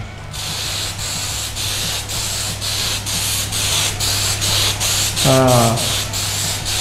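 A spray gun lays 2K81 HS clear coat over a black B13 speed shape in a steady, loud hiss, pulsing with repeated passes, over a low hum, and a voice briefly speaks near the end.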